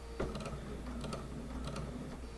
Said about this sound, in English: I'm sewing on my Bernina 790 Plus with a 37D presser foot.